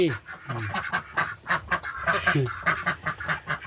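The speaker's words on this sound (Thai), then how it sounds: "เป็นไรเนาะเป็ดนี่ เป็ดไข่ก็ไม่ไข่สักที" Several ducks, laying hens kept apart from a drake, quack and honk in close, rapid overlapping calls, loud and near with no talking.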